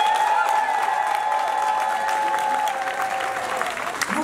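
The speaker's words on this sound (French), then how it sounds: "Applaudissez et poussez le cri de joie." A crowd at a civil wedding ceremony bursts into sustained applause and cheering, dense and loud throughout, with a steady held tone running beneath the clapping.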